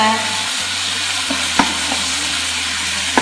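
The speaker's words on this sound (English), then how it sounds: "Again, give that a little stir." A spoon stirs beef stew with steak in a pot for French beef stew, giving a close steady sizzle with a few soft scraping knocks.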